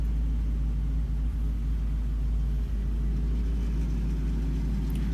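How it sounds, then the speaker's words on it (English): A 1963 Buick Riviera engine idles steadily up close, a deep continuous rumble with an even low throb and no voices. "It starts right up, it idles cool and steady."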